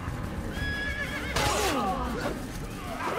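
A horse whinnies loudly and close in Assassin's Creed, a rising then falling neigh followed by snorting and a second whinny, with hoof clatter and game ambience underneath.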